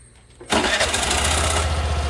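A Suzuki Burgman 125 scooter, just refilled with Castrol Power1 Ultimate 5W40 fully synthetic engine oil, cranks and fires after a quiet half-second, then settles straight into a loud, steady running hum close by.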